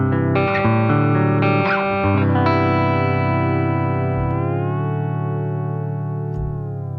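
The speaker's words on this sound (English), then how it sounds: "You notice how it took a lot longer to gliss into the next note?" Distorted guitar chords strike, then slide slowly and smoothly in pitch via a plugin glide effect simulating a whammy bar, into a held, buzzing chord that rings out loud.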